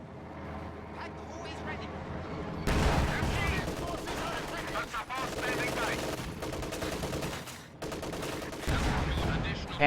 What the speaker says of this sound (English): Panzer IV firing on this Maxim over here on the right side